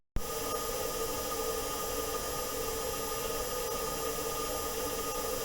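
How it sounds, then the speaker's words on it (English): Recording made on Mars by NASA's Perseverance rover, a steady, harsh broadband hiss with a faint constant hum, continuous and unchanging after a brief silent start, no voices. "NASA have a few recordings from the Mars rover Perseverance taken on Mars that are available to"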